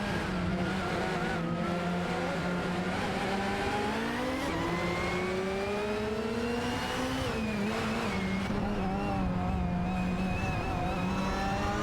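Engines of AI-driven racing cars, including a Ford Sierra Sapphire and a BMW 318i, in a video game race, droning steadily with rising and falling revs as several cars run close together, loud and continuous throughout.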